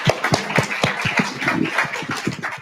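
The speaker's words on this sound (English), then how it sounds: "Let's give him another round of applause." Audience applause after a lecture, a room of hands clapping steadily and fairly close, a dense patter of claps with no voices over it.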